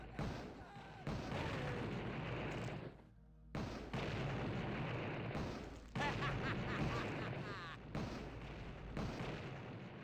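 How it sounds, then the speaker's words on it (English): Rocket launcher blasts in a video game land as dense, booming bursts in quick succession, loud and close, separated by brief gaps, with a player talking over them. "We'll just stick with the rocket launcher for now."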